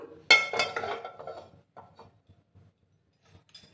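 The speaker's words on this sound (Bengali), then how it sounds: "একটা প্যান আমি বসিয়ে দিলাম।" A metal pan set down on a gas stove in a home kitchen gives one sharp clatter and a short ringing scrape, then a few faint knocks and quiet.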